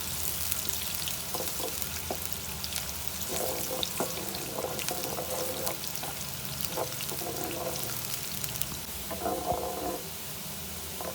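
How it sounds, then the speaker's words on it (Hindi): Onions fry in oil for a dhaba-style egg masala, giving a continuous close sizzle with occasional stirring scrapes and bubbling throughout. "ये देखिए प्याज फ्राई हो गई है। ज़्यादा फ्राई नहीं करना, बस हल्का सा हम इसको फ्राई करेंगे।"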